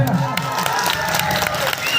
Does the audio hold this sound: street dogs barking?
no